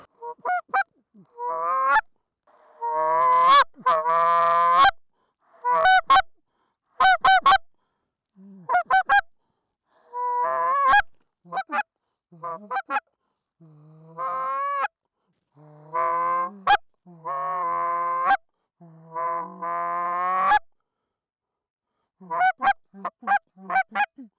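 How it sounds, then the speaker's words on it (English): A flock of geese honks in flight during a Montana goose hunt, loud repeated bursts of overlapping honks in uneven clusters, near and clear, with short silent gaps between calls. "We got some more geese. I can hear them behind me."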